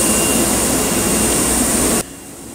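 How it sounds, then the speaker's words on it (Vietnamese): A large-format printer whirs steadily with a loud, even mechanical hum that cuts off abruptly near the end, leaving a quieter background; no one talks. "Đó, thấy cái máy in không? Đây bắt đầu chạy,"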